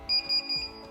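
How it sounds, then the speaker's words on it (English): Metal detector beeping while scanning wild duck meat for BBs, with three or four short evenly spaced electronic beeps, close and clear over a faint hum. "I use this metal detector to find BBs in the meat"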